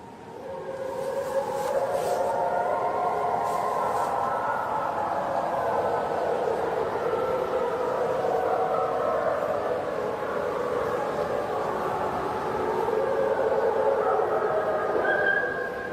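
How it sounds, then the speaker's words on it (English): Wolf pack howling at night near a watery area in the wild, long sustained overlapping howls rising and falling together, distant but steady and fairly loud throughout, with no talk. "One evening, their howls are heard in the distance."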